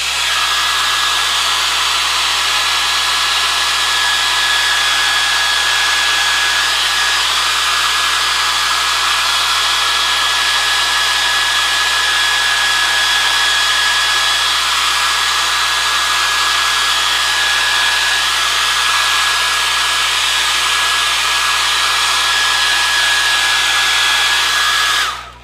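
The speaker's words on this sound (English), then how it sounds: "So you're going to hear my hair dryer here for a second." A hair dryer runs continuously at close range over a scratch-built scale model of an abandoned building, a loud, steady whooshing roar with a constant high whine that cuts off abruptly at the very end.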